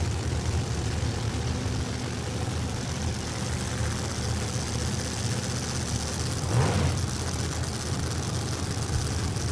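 Drag racing engines rumble steadily at an NHRA strip, a pair of Chevrolet Corvettes, one nitrous-equipped and one supercharged, giving a constant low droning roar with a brief louder swell partway through.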